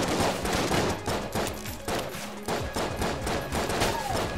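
Rapid gunfire from the Enter the Gungeon video game, dense overlapping shots in a steady stream throughout, loud and continuous with a game soundtrack underneath.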